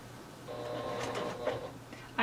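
A sewing machine fitted with a zipper foot stitches close along the edge of a fabric pencil pouch, giving a short, steady mechanical whir that runs alone for about two seconds.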